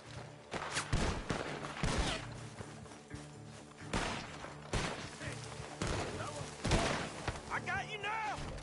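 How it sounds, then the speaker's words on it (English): Gunfire from a barn in the video game Red Dead Redemption 2, with several sharp reports spaced irregularly over shouted and spoken voices and background game sound. "The gunshots are coming from that barn."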